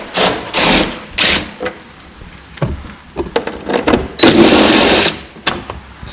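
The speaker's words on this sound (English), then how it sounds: "we just got the 10mm socket, and we are going to take off the dry sump cover." A 10mm socket working bolts off the dry sump cover of a Yamaha YXZ engine, bursts of ratchet whirring and several short metallic clicks and knocks, close by, with no talk.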